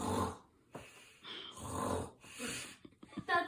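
A person imitates snoring with their voice. Several rough, nasal snorts and wheezy breaths come close and fairly quiet, with short pauses between them.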